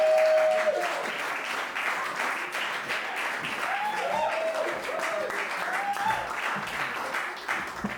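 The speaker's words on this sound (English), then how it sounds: "give a huge round of applause for Sean Ewert." A comedy-show audience claps for a comedian taking the stage, dense continuous applause with a few whoops and voices rising over it, fading slightly at the end.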